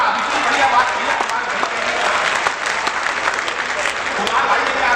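An audience at a Haryanvi poetry recital claps steadily and densely for several seconds, a sustained wash of applause with scattered sharper individual claps and no voices on top.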